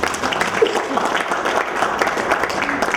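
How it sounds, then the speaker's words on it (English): A seminar audience breaks into applause, a steady wash of many hands clapping at moderate distance that fills the room throughout, with voices mixed in among the clapping. "Can we get a round of applause for that?"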